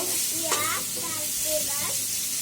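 Dried loitta fish fry in a little oil, giving a constant close sizzle while a voice talks over it.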